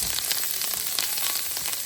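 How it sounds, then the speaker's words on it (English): Butter melts in a pan for a butter sauce, giving a continuous, fairly loud, even sizzle that holds steady from start to finish with no talking. "I just want to melt that butter."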